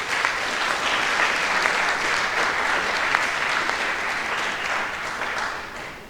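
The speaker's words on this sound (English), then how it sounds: "Shall we applaud them?" Audience at the 2016 Kwame Nkrumah Memorial Lecture at the University of Ghana applauds the evening's sponsors with steady, dense, sustained clapping that fills the room at an even level throughout.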